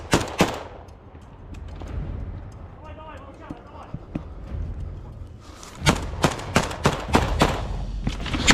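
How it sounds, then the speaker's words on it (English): Gunfire exchange during a trench assault on Russian positions, with sharp shots in bursts: a couple at the start, scattered pops in the middle, then a rapid string of loud cracks near the end over rumbling background noise. "A fierce exchange erupts as they open fire on the Russian troops positioned ahead."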